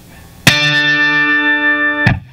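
Electric guitar played through an Analogman Prince of Tone overdrive pedal set to boost mode, one loud, bright chord struck and left to ring steadily for about a second and a half before being cut off by a muted strum.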